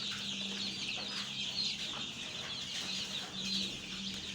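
Barred Plymouth Rock, Australorp and Rhode Island Red chickens clucking in a pen in Karachi, a steady chorus of overlapping clucks and squawks at moderate distance with a low background hum.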